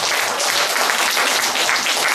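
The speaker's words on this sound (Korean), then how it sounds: "자, 우리 하나님께 영광을 박수 주시기 바랍니다." A church congregation at a 2011 leaders' revival meeting breaks into steady, dense applause, many hands clapping continuously and fairly loudly with no talk over it.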